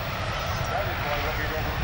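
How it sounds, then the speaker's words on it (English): A Vickers Vanguard airliner passes at the Woodford air show, a steady, loud drone of turboprop engines that holds at an even level throughout. "this Vanguard airliner flew a considerable distance with just its nose wheel in contact with the runway"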